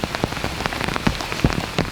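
Rain patters on a surface nearby at a garden aviary of zebra finches, with scattered irregular drops tapping over a soft wash of falling water.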